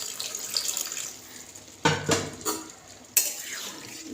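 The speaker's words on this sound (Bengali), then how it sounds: "এবার জল দিয়ে দিচ্ছি" Water is poured into a pan of shrimp and pointed gourd curry in a village kitchen, with a few short splashing bursts and faint clinks of stirring utensils.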